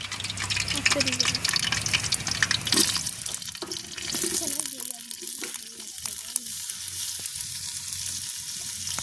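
Onion tossed into hot oil in a pan, a loud, close sizzle and hiss with stirring scrapes while a person talks over it.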